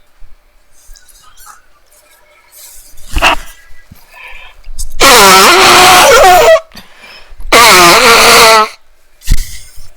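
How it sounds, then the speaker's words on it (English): Two long, loud honking nose blows close up, each about a second and a half, with softer sniffs and rustling around them. "had to blow my nose"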